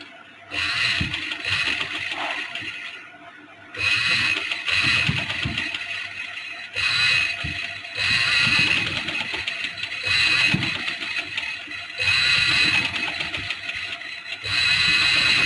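Electric sewing machine stitching along the edge of lace in bursts of steady mechanical whirring, each run lasting a few seconds, with brief quieter pauses between, close and fairly loud, no talking.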